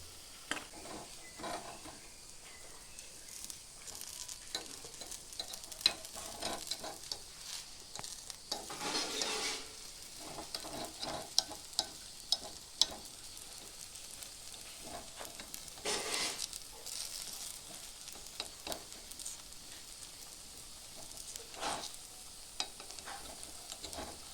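Pineapple guliappa batter sizzling in hot oil in a paniyaram pan makes a soft, continuous fry crackle with scattered pops and brief louder bursts of bubbling, alone without talk.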